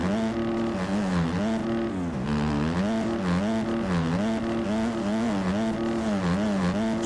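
A 250 dirt bike in a motocross video game screams at full throttle through sand, its steady high-pitched engine drone warbling up and down continuously with gear changes, loud and close with no talking.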